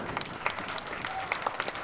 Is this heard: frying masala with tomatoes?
no